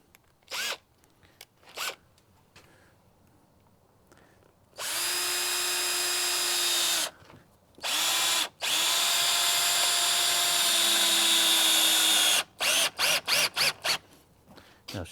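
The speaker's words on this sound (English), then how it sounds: "Now we're going to use a bugle head 3-inch stainless steel screw." A power drill drives a 3-inch stainless steel bugle head screw toward a window sill in loud, sustained whirring bursts, with short trigger taps before and after two longer runs.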